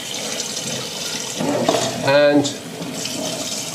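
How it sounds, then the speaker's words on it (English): Hot water poured out of a pan used for boiling eggs at a sink, then cold water running into it; a continuous splashing, gurgling stream that swells briefly in the middle, with a brief word spoken over it. "I'm going to empty out the hot water"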